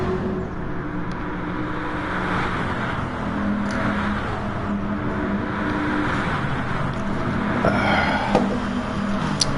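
A Bugatti race car in a racing video game at La Sarthe roars with a continuous, loud engine drone that holds steady for the whole stretch, with brief surges near the end.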